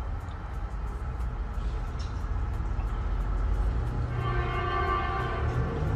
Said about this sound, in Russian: Ох, как бибикают на улице.